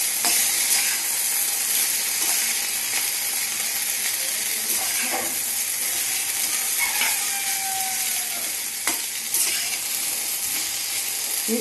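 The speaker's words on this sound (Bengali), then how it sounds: "এখানে আছে ভেন্ডি আর আলু ভাজা" Okra and potatoes frying in a pan, a loud continuous sizzle with occasional clicks and scrapes of stirring, close up and with no talking.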